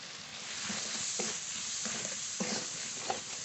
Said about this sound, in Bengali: মশলাটা ভালো করে কষিয়ে নেব